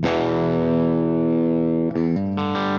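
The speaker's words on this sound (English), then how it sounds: "So if I flip it over to plexi mode here on channel two" An electric guitar runs through a Bogner Pandora XTC amp in plexi mode on channel two, giving a long sustained distorted chord that shifts to two more loud chords, heard close with no talking.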